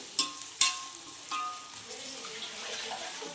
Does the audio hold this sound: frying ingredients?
yes